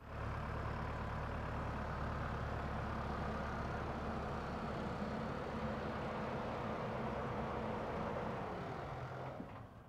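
A tractor-driven airblast sprayer fan turns at reduced PTO speed, below 540 RPM, with the tractor engine throttled down 200 RPM. It makes a steady, loud, continuous drone of engine and fan roar that holds for the whole stretch.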